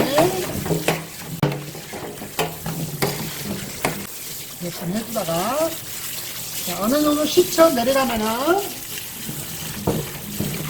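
Water runs and splashes as boiled chicken feet are rinsed and stirred in a sink, with a person talking over the clattering, trickling sounds.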